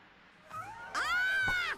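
Cats meow in the Sherlock Holmes vs Jack the Ripper video game: a short rising cry, then a longer, louder drawn-out yowl close up, over a faint background.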